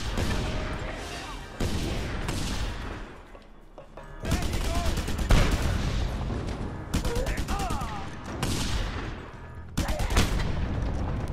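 Gunfire from the video game Just Cause 2 rattles in repeated bursts and single shots, loud and close, separated by short gaps, with game sounds and a voice mixed in.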